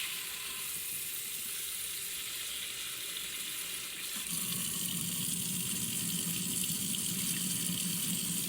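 A kitchen tap runs steadily while something is rinsed off, a hissing water stream that grows fuller and louder halfway through, nearby and without speech.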